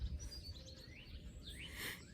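A red-headed woodpecker calls outdoors in the background, giving faint, distant chirping notes over a low hum.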